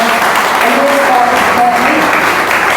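Steady, dense applause from a church congregation fills the whole stretch, even and loud without pauses.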